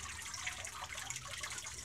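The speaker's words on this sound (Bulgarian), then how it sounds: "и водата започва да се изцежда през ситото" Water draining through a papermaking sieve lifted from thin paper pulp, a steady close trickling and dribbling hiss without pause over a short stretch.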